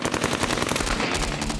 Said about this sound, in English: they were hit by a hail of bullets.